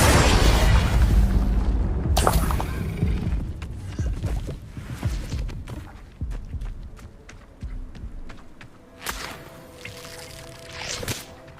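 Spell blasts erupt in the Hogwarts Legacy video game: a heavy booming impact opens, followed by further bursts, crackles and whooshes amid combat noise, fading to scattered hits and sharp flares toward the end.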